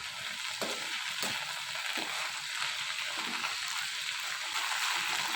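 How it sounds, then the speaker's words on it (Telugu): Coriander, mint and tomato frying with rock salt in a pan, giving a continuous soft hiss and sizzle with faint stirring scrapes, no talking. "కల్లుప్పు కూడా వేసుకుని ఇదంతా కూడా బాగా వేయించుకోవాలి."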